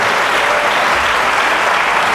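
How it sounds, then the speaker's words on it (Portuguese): A church congregation claps loudly and steadily during a neighbourhood service, a dense, even wash of many hands applauding together throughout, close and full. "Se você vai aplaudir, aplauda com alegria"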